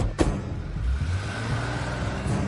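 A car engine in a Marathi film scene runs and revs as the vehicle pulls away, a steady low rumble after a brief sharp knock at the start.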